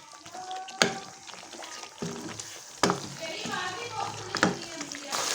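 Chicken for white karahi frying in a pan with black pepper added, heard as a steady low sizzle broken by three sharp spatula scrapes and knocks against the pan.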